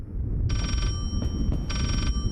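A telephone bell rings in the horror video game Layers of Fear, giving two bursts of electronic trilling over a steady low background rumble.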